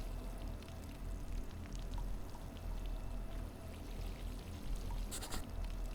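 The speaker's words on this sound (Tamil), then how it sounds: "எப்படி பிடிச்சிட்டு ஊற்றுறேன் பார்த்தீங்களா" Water poured from a container in a horror video game, a soft trickling and splashing stream that runs steadily and faintly throughout, with a brief brighter splash near the end and no talking.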